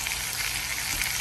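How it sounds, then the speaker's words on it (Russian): Steady, crackling sizzle of two large pieces of meat frying in a big pan over medium heat, close and continuous with no voices. "два больших шмата мяса на большой сковороде. Все, приступила к жареке"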